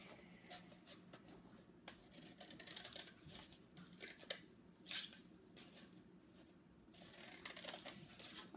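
Scissors snipping through a sheet of paper being folded into a small notebook, a series of close, soft crisp cuts and rustles in a quiet room.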